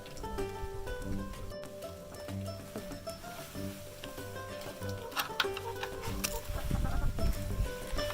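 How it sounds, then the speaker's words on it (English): Chickens clucking and murmuring inside a coop, a busy layered chorus of low clucks and occasional sharper calls, fairly close and steady throughout. "The chickens, as usual, are really eager to get out of the coop."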